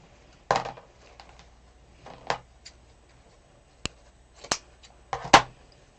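Scissors snip ribbon for a bow in a series of sharp, close clicks and crisp cuts scattered across a quiet room, several in quick pairs.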